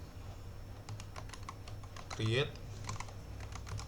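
Rapid clicking keystrokes on a computer keyboard as a command is typed into a terminal, tapping in an uneven patter of close, light clicks while someone speaks briefly over them.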